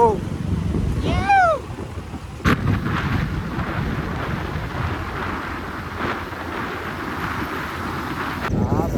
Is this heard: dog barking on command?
no